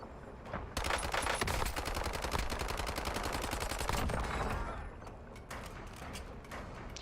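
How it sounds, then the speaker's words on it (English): A submachine gun in the Warzone video game fires one long, rapid burst of close, sharp shots, then a few scattered single shots as the firing tapers off. "An 80-meter SMG shot."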